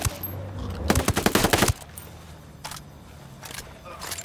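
Gunfire rings out in the Ghost Recon Wildlands video game: a loud, rapid burst of shots up close, then a few fainter, scattered pops over a low ambient hum.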